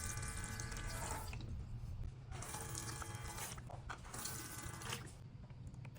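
Running water pours from a toy play sink as vegetables are washed, flowing in three steady bursts with short pauses between them, close and fairly loud.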